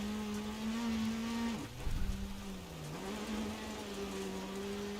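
A rally car engine in the DiRT Rally video game, set in New Zealand, hums at a steady pitch with a brief dip and recovery as it shifts, fairly quiet and alone.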